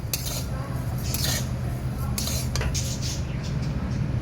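Makhana being slowly stirred and roasted in a pan over low heat, with repeated metallic scraping and clinking of utensil against pan over a constant low background hum, close by.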